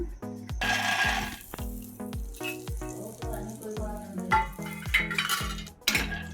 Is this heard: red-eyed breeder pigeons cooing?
no